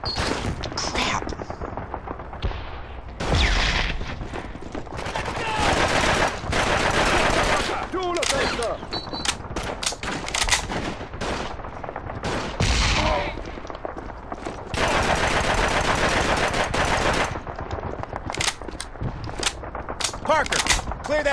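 Call of Duty 2 combat rattles with bursts of machine gun fire and scattered rifle shots, loud and close, coming in repeated volleys with brief gaps between them.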